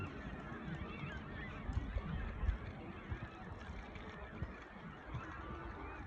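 A noisy chorus of many birds honking and calling at once, goose-like cries overlapping continuously over a low background rumble.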